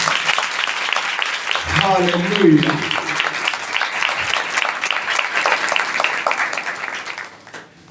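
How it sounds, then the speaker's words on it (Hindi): A church congregation gives loud, sustained applause with many hands clapping together. A voice calls out over the clapping before it thins out and fades at the end. "मैं चाहूंगा कि जितने यहां पर बैठे हैं सभी अपने अपने लिए जोरदार तालियां बजाएं।"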